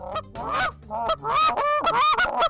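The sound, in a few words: goose honking call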